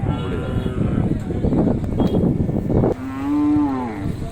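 Cattle at a crowded cattle fair, with one loud, drawn-out moo close by near the end, heard over the busy hubbub of a crowd and livestock.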